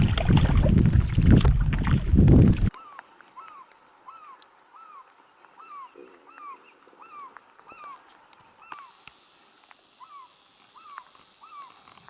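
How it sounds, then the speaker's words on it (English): A loud gust of wind or splashing opens, then quieter steady rain and water ambience with faint rhythmic canoe paddle strokes and distant chirping birds, in the Boundary Waters. "It's kind of beautiful paddling in the rain,"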